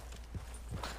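Horse hooves in the video game Red Dead Redemption 2 clop in a quick pair of muffled steps, close and fairly soft, with no talk.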